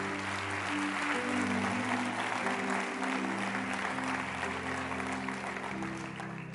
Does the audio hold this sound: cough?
no